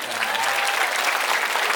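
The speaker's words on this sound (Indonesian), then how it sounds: "Nah, tepuk tangan pendeta Gilbert." Audience applause at a religious talk gathering at an Indonesian Islamic boarding school, steady dense clapping filling the short stretch, with a faint tonal hum beneath.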